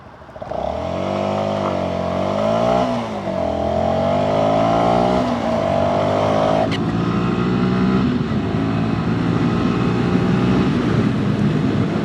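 A tall Sinnis SM-XE motorbike on knobbly tyres pulls away and accelerates, its engine note climbing in pitch through several quick, short gear changes, loud and close with steady road and wind noise beneath.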